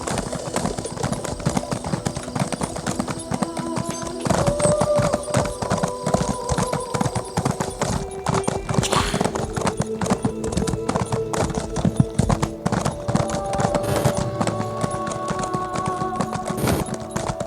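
Horse hooves gallop in a steady, rapid clip-clop rhythm through Elder Scrolls Online gameplay, loud and continuous, with game sounds and a brief whinny-like layer mixed in.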